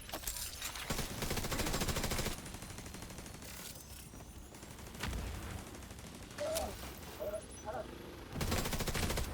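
Video game turrets with mortar and fire weapons let off bursts of gunfire in separate volleys with short gaps between them, fairly quiet against a low background.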